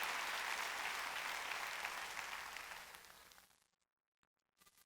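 Church congregation at a Wednesday worship service breaks into full applause, a dense wash of clapping that gradually fades to silence, followed by faint scattered sounds.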